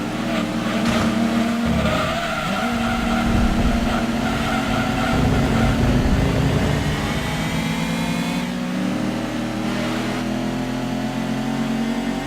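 Cougar race car in Gran Turismo 2 driving hard, its engine droning loud and steady throughout with shifting revs and tire noise, alone without talk.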